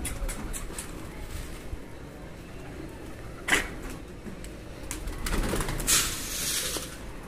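Pigeons around scattered grain give a few soft coos and bird calls against a low, steady outdoor background, with some brief rustles.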